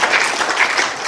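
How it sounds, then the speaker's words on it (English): Applause from an audience at a Nigerian disaster management course, a brief burst of dense clapping that stays steady and fairly loud throughout with no voices over it. "Let's give a round of applause for Nigerian women."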